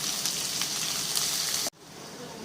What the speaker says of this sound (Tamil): உப்பு போட்டு வதக்குறோம்.